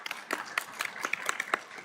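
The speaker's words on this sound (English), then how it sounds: "Give yourselves a round of applause, dietitians." Dietitians in a Capitol Hill luncheon audience clap for themselves, a brief patter of separate, fairly close hand claps in an uneven rhythm lasting under two seconds.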